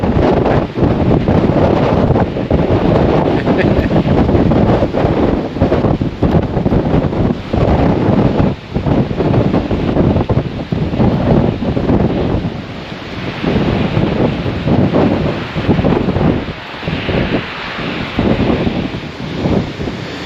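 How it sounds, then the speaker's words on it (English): Strong wind buffets the cliffs at Sheringham on the Norfolk coast, roaring loudly and continuously into the microphone with gusting surges, surf faintly underneath. "Very windy though, people."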